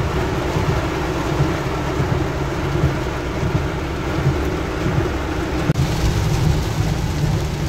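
Heavy rain pours steadily onto a Bangkok street near Lat Phrao, a loud, dense hiss with low thunder rumbling underneath throughout.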